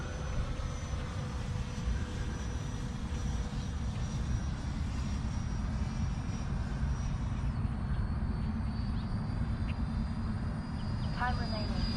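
An E-flite F-16 Thunderbirds 70mm electric ducted fan RC jet in flight outdoors, giving a continuous airy rushing whine whose pitch slides as the jet passes, steady and moderately loud throughout.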